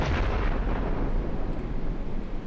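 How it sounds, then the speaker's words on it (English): Alt fire of a grenade launcher in the video game Flaws Glass, a loud, sustained explosive blast with a broad rumbling roar that fades slightly over a couple of seconds, with no talking. "when I pick up the grenade launcher and use the alt fire"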